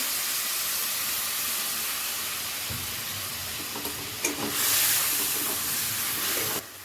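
Water splashed into frying masala for a bhetki fish-bone chorchori sets off a steady sizzle that swells into a loud, hissing burst of steam partway through, then cuts off abruptly near the end.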